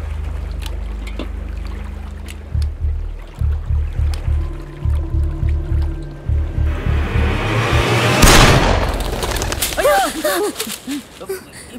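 A single loud gunshot is fired at a crocodile from the water, in a dramatic film scene. Rhythmic splashing paddle strokes come before it, and a voice speaks just after the blast.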